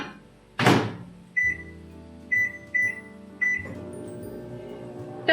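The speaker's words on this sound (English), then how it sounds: "let's put it in the microwave" A microwave oven in a home kitchen, heating water for a Christmas cocktail: a door thunk, several short keypad beeps, then a steady low running hum that carries to the end.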